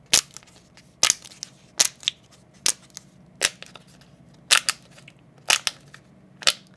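Sharp, crisp plastic pops from a homemade fidget toy made from a gum blister pack come one or two at a time in an irregular rhythm, close up, with quiet pauses between them.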